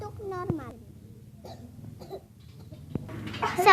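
A voice imitates an ordinary cough, with short bursty coughs up close, one early and another near the end, between stretches of vocalizing.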